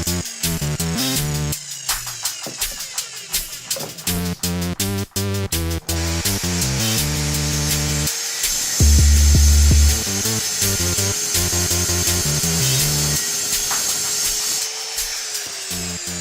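A power tool whines and buzzes steadily while cutting through a deer antler close to its base, with grinding bursts and brief pauses as the blade bites into the bone.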